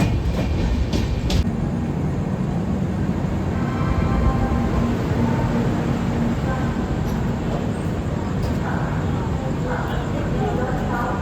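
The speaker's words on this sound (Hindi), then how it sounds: "अभी हमारी ट्रेन 12424 डिब्रूगढ़ टाउन राजधानी पहुंच चुकी है प्रयागराज।" Dibrugarh Rajdhani express train pulling into Prayagraj Junction, with a continuous rumble of wheels and carriage clatter, a few sharp clicks, and nearby voices talking under the train noise.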